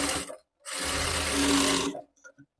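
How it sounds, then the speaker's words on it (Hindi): A sewing machine runs in two bursts while double-stitching a strip for a princess-cut blouse, first briefly, then a steady whirring run of over a second, followed by faint handling clicks. "मैं पट्टी में डबल सिलाई लगा रही हूँ"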